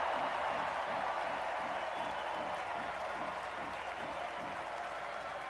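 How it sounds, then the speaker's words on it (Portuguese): Audience at the Democratic National Convention applauding, a broad, dense roar of clapping from a large crowd filling the hall, steady and even throughout, with no talking. "Você ouve o público aplaudir"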